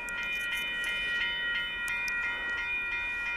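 Northbound Union Pacific limestone freight train passing at Dittmar Road in Austin, Texas: steady rumble of rolling railcars with high squealing wheel tones and faint rhythmic clicks, continuous and fairly close.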